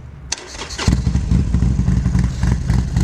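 A motorcycle engine cranks and catches after a sharp click, then settles into a loud, steady, lumpy idle with rhythmic exhaust pulses close to the listener.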